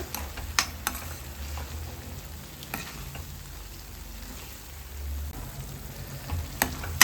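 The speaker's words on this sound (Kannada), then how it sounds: "ಮಸಾಲೆ ಚೆಂದ ಫ್ರೈ ಆಗಿದೆ. ಈ ರೀತಿಯಲ್ಲಿ ಫ್ರೈ ಆಗಬೇಕು." Masala sizzles steadily in ghee for a prawn ghee roast, a soft continuous frying hiss broken by a few sharp spoon stirs and ticks, with no voices.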